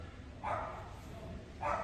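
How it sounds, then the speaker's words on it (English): A dog gives two short barks about a second apart, somewhat distant, over a low background hum. "There's my doggy friends."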